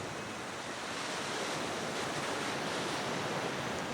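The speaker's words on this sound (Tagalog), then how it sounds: "Sarap pakinggan ng hampas na mga alon." Ocean waves break on a beach in a steady, loud surf roar with continuous wash and no clear gaps, and no voices are heard.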